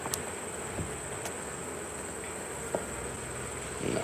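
Honey bees buzzing around an open hive box during honey extraction, a steady dense hum filling the air at close range, with a few faint clicks and no talk.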